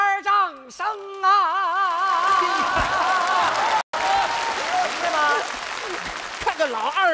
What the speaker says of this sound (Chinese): 能不能从前到后来点掌声啊